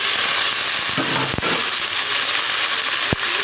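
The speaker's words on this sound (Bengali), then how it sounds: "বেগুন দিয়ে একটু আমি ভেজে নেব" Potatoes, chilli and eggplant frying in a pan make a steady, even sizzle throughout, with a couple of brief clinks partway through.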